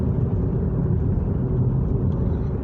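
Car engine rumbling low and steady as the driver holds the gas, a close, continuous motor drone with no talking.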